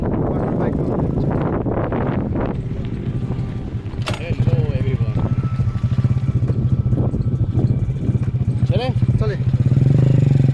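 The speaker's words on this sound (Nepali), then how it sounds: "बाइकमा जाँदैछौँ।" A motorcycle carries riders along on a journey, its engine hum and wind rush steady and close, rising slightly in the second half, with a voice speaking over it.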